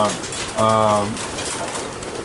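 A racing pigeon in a loft gives one clear, close, throaty coo just after the start, set against a low background murmur of the other birds.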